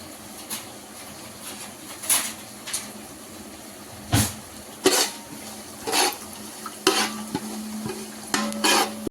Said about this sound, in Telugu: ఆయిల్ కాగాక ఫస్ట్ బే లీఫ్, హోల్ గరం మసాలా వేసేసుకోవాలి. వేసి మిక్స్ చేసుకోవాలి.